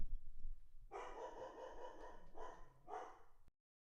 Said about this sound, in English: This is so weird, it's pissing my dog off.